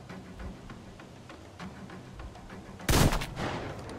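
Video game gunfire in Metro Exodus, with a single sharp, loud shot cracking out near the end over a low, rumbling ambient background.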